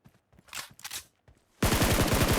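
Gunfire from a Kar98 rifle in the mobile battle royale game PUBG Mobile, a dense rapid burst of loud shots ending the clip after a second and a half of scattered quieter game sounds.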